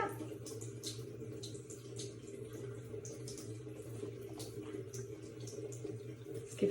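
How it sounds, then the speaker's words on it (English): Water runs steadily from a tap over hands being rinsed of soap at a sink, a soft continuous trickle with light splashing, fairly quiet and heard alone. "now feel the water, don't just rinse them, feel the water washing it all off"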